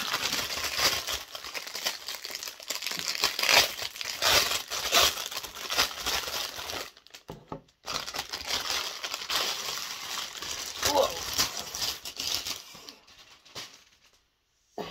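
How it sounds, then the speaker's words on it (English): Crinkly plastic packaging pulled off a foam sword replica, giving irregular crackling and rustling bursts up close, with a brief pause midway and a quiet tail at the end. "Let's get it out and see without all the crinkly plastic."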